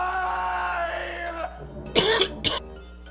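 A drawn-out vocal sound fades, then two harsh coughs burst out a moment apart, close by.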